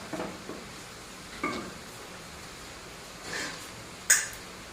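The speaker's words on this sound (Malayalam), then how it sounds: "അതിനുശേഷം നന്നായിട്ടൊന്ന് ഇളക്കാം" Kerala-style nadan chicken curry being stirred in a pot, heard as a few faint, sparse scrapes and clinks of a spoon against the pot in an otherwise quiet kitchen.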